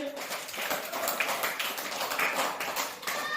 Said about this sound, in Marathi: वा वा वा सर्वांनी टाळ्या रे